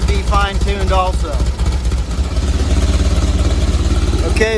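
A VW engine fitted with dual 34 carburetors idles loud and close in a steady pulsing rhythm, with a person talking over it.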